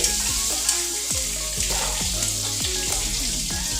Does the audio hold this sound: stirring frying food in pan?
yes